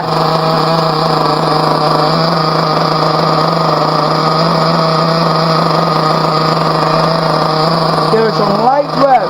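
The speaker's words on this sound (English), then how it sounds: "Give it some light rev, a light one." A Team Associated RC car engine running during break-in holds a loud, steady high-pitched drone for the whole stretch, then rises into quick revs at the very end.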